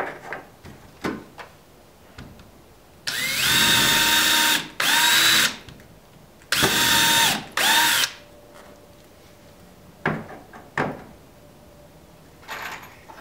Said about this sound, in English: Drill into it nice and clean.